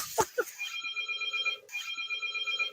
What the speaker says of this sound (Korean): 지금 업무 전화가 왔어요.